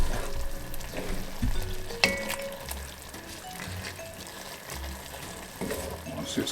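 Mackerel rundown with coconut milk simmering in a pot: a steady bubbling sizzle and frying hiss runs throughout at moderate level, with occasional soft stirring clatter and faint background noise.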